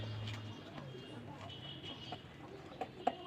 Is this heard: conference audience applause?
no